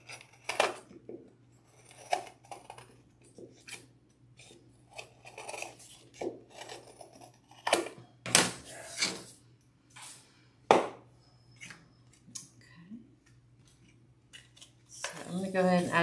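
Repeated crisp snips of scissors cutting through stiff poster board, irregular and close, with quieter rasping between cuts.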